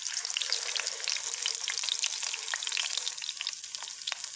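Potato chapli kababs laid tomato side down in a pan, frying with a soft, continuous hiss and scattered small pops, close and even throughout.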